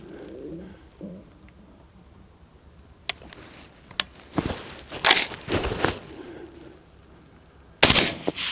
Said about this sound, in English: Blair Shorts with a 260 gas gun.